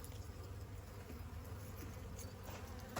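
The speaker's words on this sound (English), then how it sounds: "A lot of the bees got stuck in there" Bees trapped inside a feeder give off a faint, continuous buzzing hum, low and steady against quiet surroundings with no speech.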